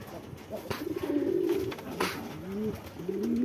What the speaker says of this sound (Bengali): এই যে কবুতর এই পাশে আসছে